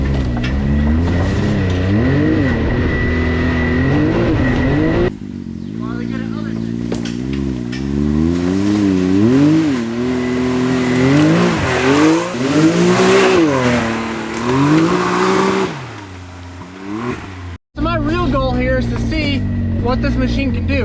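A 120-horsepower base-model Can-Am Maverick X3 Turbo side-by-side, 64 inches wide on wheel spacers, drives a trail with a loud, near engine note that repeatedly rises and falls as it revs, with a brief cut near the end.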